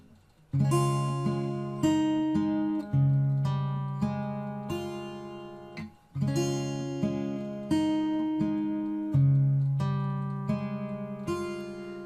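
Slow fingerpicked acoustic guitar plays a gentle sequence of ringing chords from a piece with sustained bass notes, repeating the same phrase twice, clear and close.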